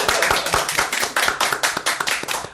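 A small studio audience of a few people claps in a quick, dense burst of close hand claps lasting a couple of seconds, loud and without speech.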